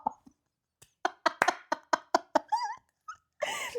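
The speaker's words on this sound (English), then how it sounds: "cute dog in the car" A dog riding in a car gives a run of short, sharp yips and whimpers, several quick bursts in a row followed by a higher whining sound, fairly close and with no talking.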